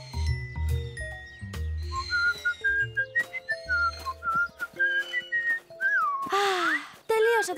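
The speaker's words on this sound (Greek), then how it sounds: "Εσείς οι τρεις κάνετε ενδιαφέροντες σφυριχτούς ήχους με τους χυμούς σας" Three cartoon characters sip juice through straws, producing a string of wavering, rising and falling whistles in quick succession, loud and close, with a chiming jingle and voices speaking around them.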